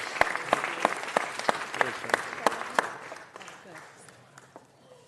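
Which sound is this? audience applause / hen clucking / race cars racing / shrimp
audience applause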